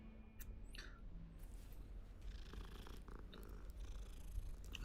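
A cat in a video game purrs while being petted: a soft, close, continuous rumbling purr with a few light incidental sounds, no talking.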